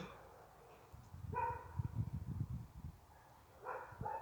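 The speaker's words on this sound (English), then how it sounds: "You have to excuse the doggos. They're very rude." Pet dogs bark indoors in a short flurry of rapid barks, followed by a pause and then a second, briefer burst of barking, moderately close and fairly soft.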